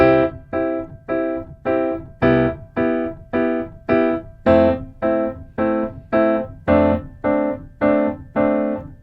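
Piano plays a steady swinging pattern of chords, with a low bass note dropping in at the start of each bar, evenly paced and clear.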